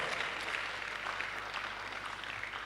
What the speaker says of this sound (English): Please welcome Professor Wana, EJC, with a loud round of applause